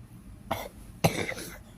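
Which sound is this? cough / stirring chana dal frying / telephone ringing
cough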